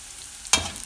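Asafoetida dropped into onions frying in coconut oil gives a sudden sharp sizzle burst that then settles into a softer crackling fry, close and brief.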